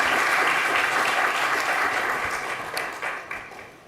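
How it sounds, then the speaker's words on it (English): Audience applause at an economics conference session, a dense, steady burst of clapping from a seated crowd that holds strong and then slowly thins and fades toward the end. "let's welcome with a round of applause, Eric Parrado"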